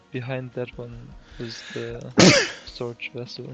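A person talks over a multiplayer voice chat while playing a modded Minecraft server, and one sharp, loud sneeze bursts out in the middle of the talk.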